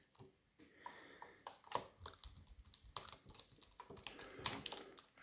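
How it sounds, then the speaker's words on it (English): Scissors snip through protective film on a 1:18 scale Pagani Huayra Roadster model car, giving a quiet series of small, irregular clicks and crisp cuts at close range. "So now let me cut it here."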